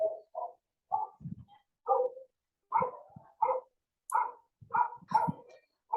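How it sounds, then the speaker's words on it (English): A dog barks repeatedly in the background of an online lesson, about a dozen fairly quiet yaps in an uneven rhythm. "I can hear your dog barking."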